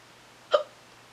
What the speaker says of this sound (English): That's my sound effects, my hiccups.